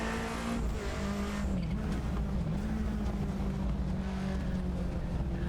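A Cosworth RS500 race car accelerates hard in the Assetto Corsa sim, its engine note climbing steadily in a loud, close, continuous drone with rising pitch and no talk.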